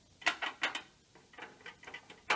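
Small screws are driven into a PC case, producing quick bursts of light, close ticking clicks with short pauses between turns.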